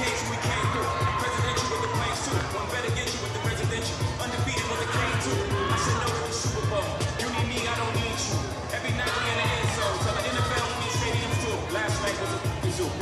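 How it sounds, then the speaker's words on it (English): Crowd at a college gymnastics meet, William & Mary at UNC, roaring and cheering loudly and steadily throughout, with shouts and babble in a large arena. "Have you ever seen the crowd going ape shit?"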